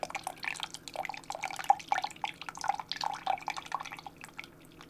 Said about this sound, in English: It pours slowly, but it gets coffee into my cup.